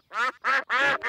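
Cartoon ducks quacking in Peppa Pig, three loud nasal quacks in quick succession followed by the start of a fourth, close and clear with no talk.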